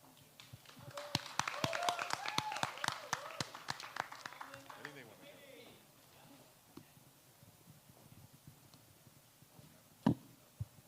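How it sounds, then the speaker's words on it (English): Audience applause at a climate crisis simulation event, a few seconds of sparse, distinct claps from a small group that thin out into scattered taps and a final sharp knock. "Let's get one more round of applause for the Climate and Health Committee"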